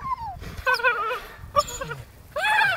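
Seven-week-old puppies whimper and yip in short, high, wavering cries, several bursts close by with small gaps between them.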